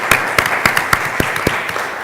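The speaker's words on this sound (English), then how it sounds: "Let's give another round of applause to all of our presenters." Conference audience at a NACCHO 2017 public health session applauds its presenters, with scattered individual claps standing out over a steady, fairly loud wash of hands, no talking.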